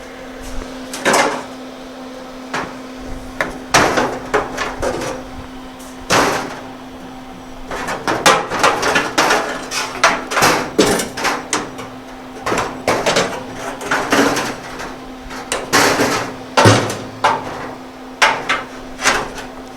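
Tacks hammered in while chopping the top of a car: a steady run of sharp, loud knocks and taps, some in quick bursts, with brief pauses between groups and no talking.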